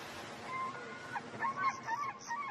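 Birds on the Galápagos Islands call in honking, goose-like cries, a few overlapping calls rising in the second half, moderately faint over a soft background hiss.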